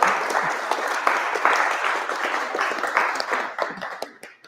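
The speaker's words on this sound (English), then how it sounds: "Give me a round of applause." Audience at a tech demo night applauding after the talks, close, dense clapping that holds steady and then thins and fades toward the end.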